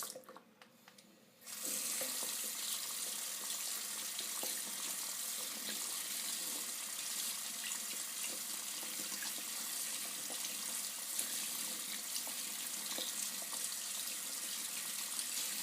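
Tap water runs steadily from a faucet as makeup brushes are rinsed under it, a continuous close splashing hiss that starts abruptly after a brief quiet moment and carries on without a break.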